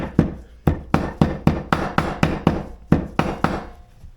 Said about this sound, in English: my little tiny hammer.